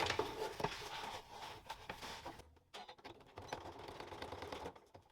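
A sewing machine stitches a box around a strip of Velcro, its rapid needle patter running in quiet bursts with a brief pause in the middle, close and faint.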